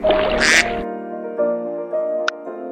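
A duck gives one loud, close burst of raspy quacks, followed by a steady electronic jingle from a children's animal alphabet game.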